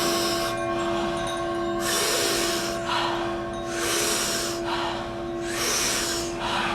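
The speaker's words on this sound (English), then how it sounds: "Really big, big, deep breaths." Powerful rhythmic yoga breathing, big forceful inhales alternating with softer exhales in a steady cycle of about six breaths, loud and close over a continuous hum in the background.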